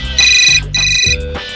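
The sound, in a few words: phone ringing while calling someone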